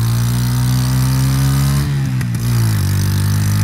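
A motorcycle engine runs steadily while being ridden, a low droning hum with a strong throttle note that dips briefly in the middle before settling again, continuous and close throughout.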